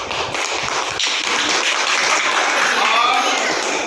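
A classroom of tenth-grade students claps for a group during a quiz activity, the dense applause running steadily and loudly for the whole stretch.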